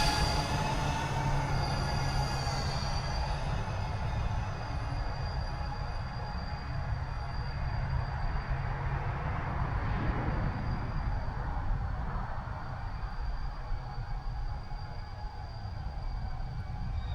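A DJI Avata 2 FPV drone flies slowly under manual control, its motors giving a steady, continuous whine with tonal harmonics that shift slightly in pitch.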